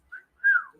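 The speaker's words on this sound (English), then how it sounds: "That's my whistling, everybody." Two short whistled notes, a brief chirp followed by a longer sliding tone that dips downward, clear and close with no talking.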